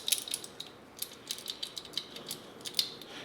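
Rapid series of small clicking, ratcheting ticks from the little wheel being unscrewed on a Fotodiox NEX to EF auto lens adapter mount, close and crisp, no talking.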